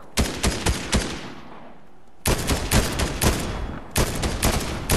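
Rapid bursts of automatic gunfire from the video game Fortnite, two loud volleys of sharp cracking shots separated by a brief lull, then another burst, close and dominant with no talk.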